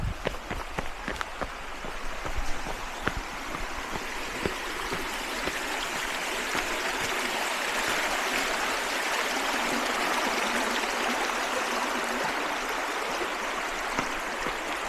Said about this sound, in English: Oh no, creek crossing.